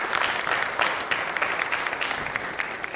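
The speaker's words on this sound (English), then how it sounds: "Big round of applause for Voit." Dense, sustained applause from an event audience after a talk, loud and close, filling the whole stretch with continuous clapping and no voices.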